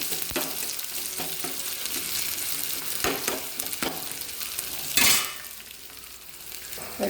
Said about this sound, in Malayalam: വെളുത്തുള്ളിയും പച്ചമുളകും ഒന്ന് നന്നായിട്ട് ചൂടായിട്ടുണ്ട്.